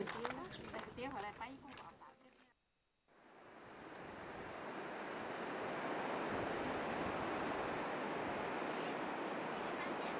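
A graceful waterfall in a Zhuang village area gives a steady, full rushing roar of falling water. It starts abruptly after a short spell of voice and settles into an unbroken wash of sound.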